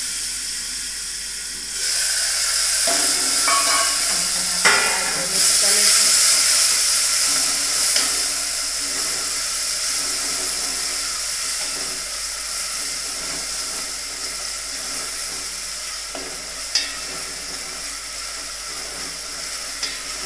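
Ginger-garlic paste and garlic hit hot oil with cumin seeds and sizzle in a loud, steady hiss of frying, with occasional stirring scrapes and pops, close and continuous with no talk.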